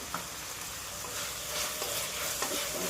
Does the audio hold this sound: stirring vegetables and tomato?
yes